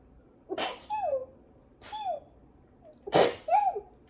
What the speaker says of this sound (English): the reason I'm sneezing